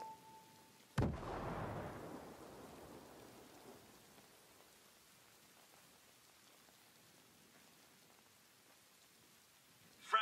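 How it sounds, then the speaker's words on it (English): A single frag grenade explosion in the tactical shooter Ghost Recon Breakpoint, a sudden loud blast followed by a long rumbling, debris-like decay that fades to quiet ambience, with a small burst near the end. "I'm throwing a frag grenade."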